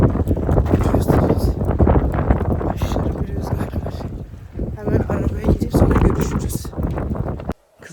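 Strong wind buffets the microphone continuously while someone walks outdoors, producing a loud, gusty rumble that dips briefly before cutting off at the end.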